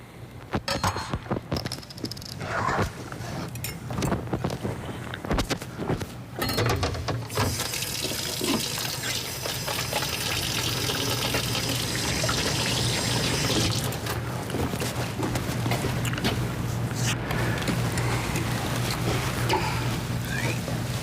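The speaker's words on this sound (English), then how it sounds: "Just want to make sure you get that liquid down in there." Liquid is poured down into a hole, running and splashing almost continuously for about twenty seconds, with choppier gurgles at first and then a steadier, louder flow.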